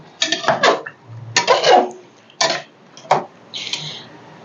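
A spoon scraping and knocking in a pot of chicken curry as it is stirred, four or five distinct close scrapes with brief pauses between them.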